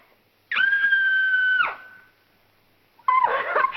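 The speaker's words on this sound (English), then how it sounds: "I'm so nervous I could scream. In fact, I think I will." A woman screams close and loud in an old 1941 comedy film, a sustained high shriek of about a second that trails off, then after a short pause a second, ragged scream starts up.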